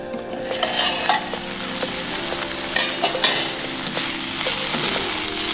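Water hyacinth flowers stir-fried in a pan over a gas flame: a close, continuous sizzle with repeated spatula scrapes and clinks against the pan, no voices.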